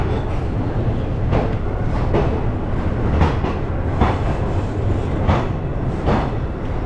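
The Millennium Express pulls out of Jhansi station, wheels beating a steady clickety-clack over rail joints in regular rhythmic bursts, loud and continuous with a low rumble underneath.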